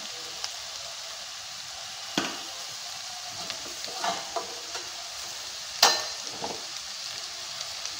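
Turmeric, chilli powder and salt get stirred into a drumstick curry in a pan, with a soft steady sizzle and a few distinct spoon scrapes and clinks. The strokes are close and come at irregular intervals.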